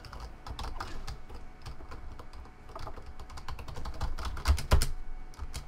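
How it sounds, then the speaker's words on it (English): Rapid, irregular keyboard button mashing during a video game, a dense run of close plastic key clacks that grows busier and louder toward the end, with no talking. "I'm just literally button mashing on my keyboard."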